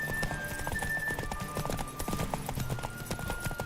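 Horse hooves in The Witcher 3: Wild Hunt, a quick rhythmic clip-clop of galloping that repeats steadily and sits close, with background game music tones running underneath.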